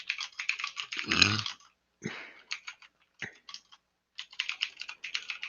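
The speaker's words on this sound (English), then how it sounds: "Someone's got their mic open while they're typing." Rapid clicking of keystrokes on a computer keyboard picked up through an open microphone, coming in irregular bursts with short pauses and one brief louder thump partway through.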